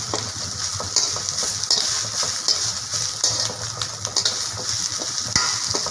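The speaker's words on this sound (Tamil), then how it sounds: "இப்போ கருவேப்பிலை வதக்கிட்டு இருக்கும்போது அதோட ஒரு நாலஞ்சு பல் நம்ம எடுத்து வச்ச பூண்டுலேருந்து போட்டுக்கிறேன்" Curry leaves and garlic cloves sauté in a pan for a curry-leaf kulambu, giving a steady close sizzle and frying hiss with scattered scraping stirs and light utensil clinks throughout.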